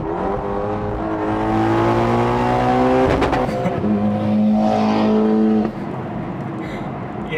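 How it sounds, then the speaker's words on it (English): A loud race car engine powers along a road during a cross-country trip, holding a steady strong drone with rising and shifting tones as it accelerates, with a brief rough burst midway and no talk over it. "Ben, that is what a real car sounds like."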